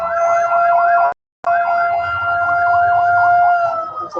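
A wailing siren rises and falls continuously, fairly loud and steady, with a brief cut in the sound partway through.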